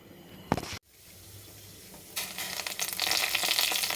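Chana dal, urad dal and mustard seeds fry in hot oil, beginning with a brief clatter, then a quiet pause before the sizzle builds into a loud, steady hiss close by.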